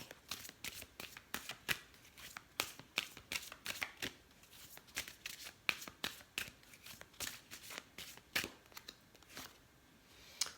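An Angel Therapy oracle card deck being shuffled, its quick riffles and snaps repeating in a steady, close but soft rhythm.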